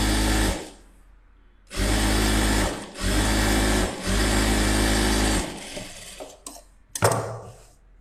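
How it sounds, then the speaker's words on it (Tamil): A sewing machine stitching a rough tacking seam buzzes in several bursts of a second or more, separated by short pauses, followed by a few clicks and handling knocks near the end. "இல்லை நம்ம சும்மா ரஃப்பாக தையல் போடுறேன்"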